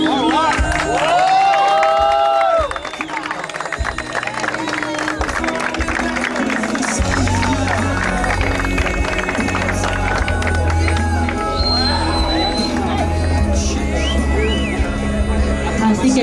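An audience at an evening-gown round of a beauty pageant cheers and claps loudly, a steady roar of applause and shouts with music running underneath and an announcer's voice heard over it.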